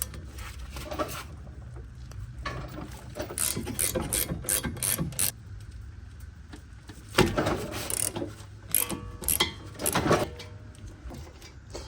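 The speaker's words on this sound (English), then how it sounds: "this one comes off with two 15mm bolts, 15mm heads" Ratchet turning out the 15mm caliper bracket bolts on the rear brakes of a 2013–2019 Ford Escape, heard as bursts of quick metallic clicking with pauses between them, fairly close against a low background.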